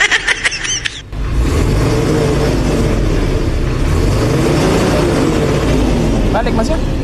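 Isuzu 6HK1 truck diesel engine with a check-engine fault and fuel knocking, revving hard and holding a loud sustained roar after a brief burst of clatter at the start, close by.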